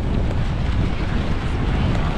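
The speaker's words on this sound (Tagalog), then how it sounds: "Grabe, lalaki ng alon." Open sea off Siargao with big waves and strong wind, a loud continuous roar dominated by low buffeting wind noise on the microphone.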